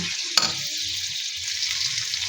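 Ginger-garlic paste frying in hot oil in a wok after the onions, a loud steady sizzle and hiss with one sharp clink of a spoon near the start, no voices.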